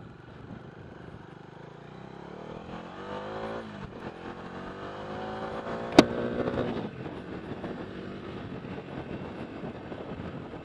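A Bajaj Dominar 250 BS6 motorcycle rides off-road at a steady 30 to 40 km/h, its engine a continuous close drone that rises in pitch partway through, with a sharp brief knock near the middle.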